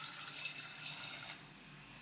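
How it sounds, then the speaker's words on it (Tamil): Water pours steadily into a vessel of soaked white chickpeas, a close, continuous splashing stream that thins out and softens toward the end, with no talk over it. "இது முழுகிற அளவுக்கு தண்ணி சேர்த்துக்கலாம்."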